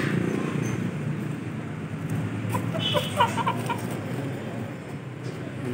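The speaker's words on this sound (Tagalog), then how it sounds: "Yan, dragon manok." Dragon chickens cluck a few times amid a noisy backyard poultry pen, short irregular calls sitting over a steady low background rumble.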